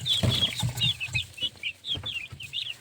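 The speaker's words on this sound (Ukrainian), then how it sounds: "5 цесарок маленьких" Two-week-old guinea fowl chicks chirp and peep repeatedly in high, thin calls, with soft rustling and light movement nearby.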